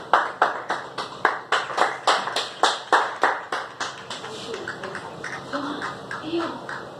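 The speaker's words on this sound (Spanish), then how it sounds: "Dale un fuerte aplauso a Dios por eso." A church congregation claps loud, sharp, evenly spaced beats in unison, about three per second. The claps then fade into looser, softer clapping as a voice talks over them.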